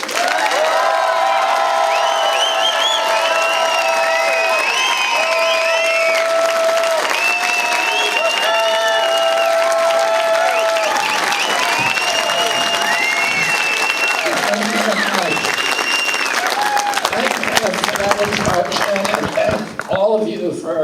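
An audience at a voter meet-and-greet in Lansing applauds and cheers to welcome Robert F. Kennedy Jr., dense sustained clapping with whoops and shouts over roughly twenty seconds, loud and steady throughout.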